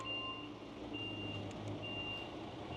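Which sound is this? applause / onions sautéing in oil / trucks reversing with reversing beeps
trucks reversing with reversing beeps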